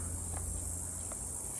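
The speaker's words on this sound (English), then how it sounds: "Also, hearing the cicadas, I will never get over that sound." Cicadas drone steadily in a sunflower garden, a constant high-pitched buzz with a low background hum and a couple of faint clicks.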